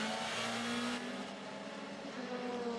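WTCC touring race cars from the 2016 French round howl down a straight, a loud sustained engine roar with rising tones as they chase each other, with faint commentary underneath.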